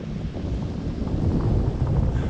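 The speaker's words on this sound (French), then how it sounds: "il fait froid, il y a du vent." Cold wind buffets the microphone on a mountain bike ride in a steady low roar, rumbling and gusting slightly louder toward the end, with no voices.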